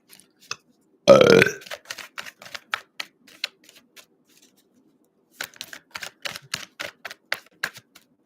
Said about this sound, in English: Sorry, y'all, spiritual burps.